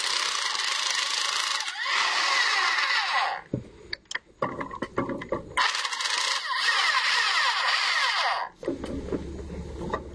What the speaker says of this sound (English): It has 10mm bolts just like the plenum had. Get them all the way loose.